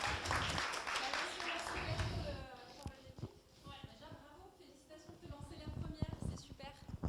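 A pitch workshop audience breaks into dense, steady applause for a few seconds, then the clapping fades and a voice begins talking over scattered, lingering claps.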